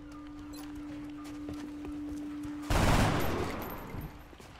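Gunfire in the tactical video game X-COM Long War: after quiet ambient tones and small clicks, a single loud burst of weapon fire erupts and trails off over a couple of seconds.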